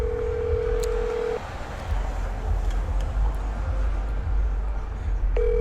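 A telephone ringing tone on an outgoing call plays steadily over a low rumbling background, cuts out, then returns near the end, with faint clicks scattered throughout.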